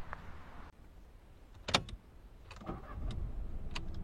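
A Volkswagen Polo R-Line with a 95 hp petrol engine starts with a brief click and crank, then settles into a quiet, low, steady idle, heard from inside with a few light mechanical clicks.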